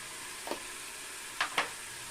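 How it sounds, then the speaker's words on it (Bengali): Spice paste with salt frying for a crab curry, giving a low, steady sizzle with three short stirring scrapes rising above it. "এবার মশলাটাকে সব শেষে লবণ দিয়ে একটু কষিয়ে নিতে হবে"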